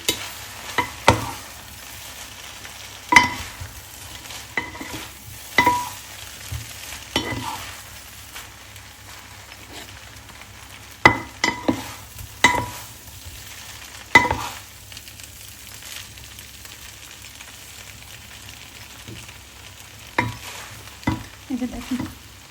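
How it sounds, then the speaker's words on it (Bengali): Kebab mixture stirred and mixed in a hot pan, with a continuous low sizzle and repeated spoon scrapes and knocks against the pan at irregular intervals, close and moderately loud. "এখন কাবাবটা মিক্স করে ফেলি"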